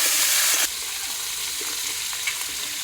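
Catla fish heads fry in hot oil, a loud hissing sizzle that drops slightly after the first half second and then holds a steady crackling spatter close by.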